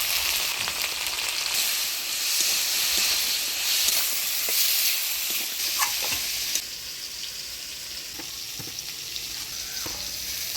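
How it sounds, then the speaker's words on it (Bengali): Potatoes and eggplant frying in a pan with turmeric and salt, a steady bright sizzle with occasional clinks and scrapes of stirring, dropping slightly in level partway through as the hiss settles. "আলু বেগুনটা ভাজা ভাজা করে নিলাম"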